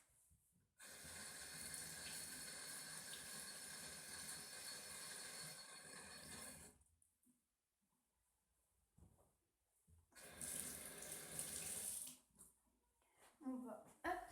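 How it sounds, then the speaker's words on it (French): Tap water runs steadily into a sink while utensils are washed, two long bursts of rushing flow separated by a quiet pause, with faint clinks near the end. "faut que je lave les trucs."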